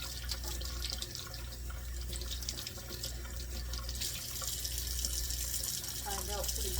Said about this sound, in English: Washing all the peppers.